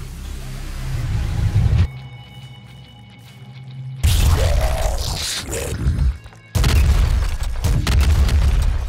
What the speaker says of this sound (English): Grenade shotgun's pretty sweet.